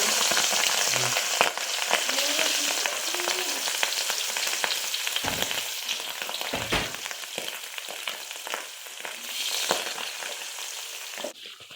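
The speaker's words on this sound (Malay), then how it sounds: "nampaknya minyak kita dah panas. Okey, kita akan goreng dulu ikan patin ni." Catfish sizzles and crackles steadily in hot oil over low heat, a continuous bright frying hiss with occasional louder pops and a few stirring clanks.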